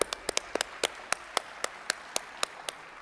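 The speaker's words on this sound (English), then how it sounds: "Big round of applause." Sparse, evenly paced claps from a small conference audience, a dozen or so sharp hand strikes spread out in a steady rhythm rather than a full ovation, fairly close and clear with no talk over them.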